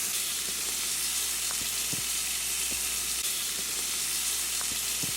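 A steak sears on a Coleman camp stove with a constant, close hiss of frying, broken by scattered sharp pops and crackles, and no talking.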